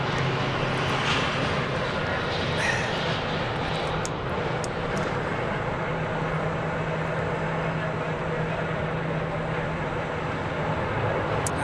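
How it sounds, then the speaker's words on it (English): Boeing 737-800 airliner arriving at Phoenix airport, a continuous broad jet engine roar heard from the ground, steady and fairly loud throughout, with a low droning hum beneath. "I see it there from Albuquerque, a 737-800."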